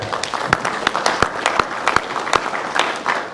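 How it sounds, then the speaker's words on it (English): An audience at a Corvette Racing talk in Hershey applauds in a close, moderately loud patter, with several sharp, distinct claps standing out above the general clapping. "give yourselves a round of applause"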